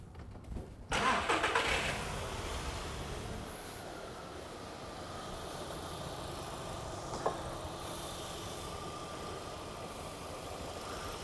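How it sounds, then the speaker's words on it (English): A car engine cranks and catches with a loud burst about a second in, then settles into a steady, quieter idle that runs on evenly for several seconds. "start the car up"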